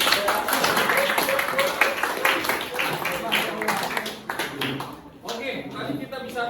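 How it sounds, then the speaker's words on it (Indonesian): Students in a classroom clap their hands together in a rapid, uneven burst that tapers off, with chatter and voices mixed in throughout. "Oke, bagus, tepuk tangan dulu."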